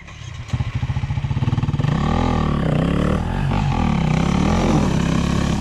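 Enduro motorcycle engine close by, starting with a rapid throbbing idle chug that swells into a loud, rough, sustained roar as the bike revs and pulls away.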